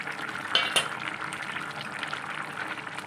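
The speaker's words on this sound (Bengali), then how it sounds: "এই ভালোভাবে ফুটে গেছে এইবারে মাছটা ঢেলে দেবো এর মধ্যে" Fish curry broth with seer/whole spices simmering in a wok-style pan, a steady soft bubbling hiss with a couple of brief clinks or pops early on, close and fairly quiet, no talking.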